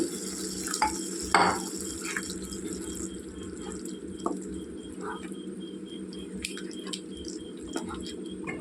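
Prawn curry stirred in a pan after water is added, the spoon scraping and squishing through the wet gravy in irregular strokes with light clinks and a faint sizzle underneath, close up and without talk.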